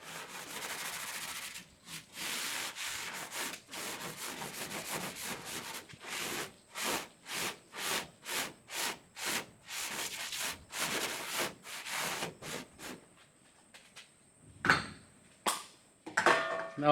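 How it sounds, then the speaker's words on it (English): Black paint is scrubbed off a rusted quarter panel on a barn find car, a long run of close, rhythmic rubbing strokes, fast at first, then slower and more spaced, with a few knocks at the end. "give that a few minutes to work on that black paint and scrub that off"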